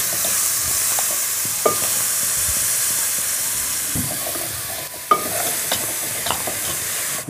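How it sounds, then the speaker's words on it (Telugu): Chopped onion pieces with a pinch of salt being fried for an egg curry in a restaurant kitchen, a loud steady hissing sizzle with a few sharp spoon scrapes and clinks as the pan is stirred. "ఇదిగో ఉల్లిపాయ ముక్కలు కలుపు ఇందులోనే కొంచెం ఉప్పు వేసేద్దాం"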